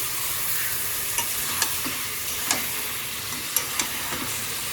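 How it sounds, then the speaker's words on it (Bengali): Fatty meat frying in a kadai, a steady loud sizzle with scattered scraping clicks of a spoon stirring through it, close up and free of talk. "প্রেসার কুকারে দেবো না, কড়াইতে করেই করবো"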